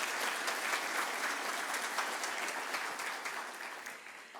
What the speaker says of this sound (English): let's give a round of applause for our presenting sponsor